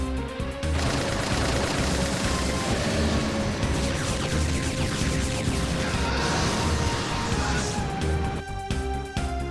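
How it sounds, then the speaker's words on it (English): Machine guns and a main cannon fire relentlessly in a Final Fantasy VIII game scene, a loud continuous barrage of rapid gunfire and booming blasts over game music, briefly dipping near the end. "Are the machine guns and main cannon ready? Ready! Let's just fire like crazy and make a big hole."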